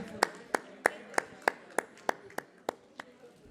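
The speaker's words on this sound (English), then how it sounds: "Let's give JV Global Services a big round of applause." Rhythmic clapping in an even, steady beat at a women's entrepreneurship day event, about a dozen distinct claps spaced evenly apart, fairly quiet and crisp.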